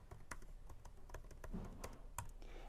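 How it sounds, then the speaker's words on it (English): Fingers tap out a search term on a computer keyboard, producing a quiet, uneven run of light plastic key clicks close by. "I'm going to go ahead and type in carpet cleaning."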